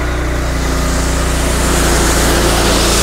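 A Honda IGX engine with no throttle drives a 3500 PSI pressure cleaner at maximum RPM. It gives a loud, constant, close drone with a steady pulsing hum and no pauses or talk.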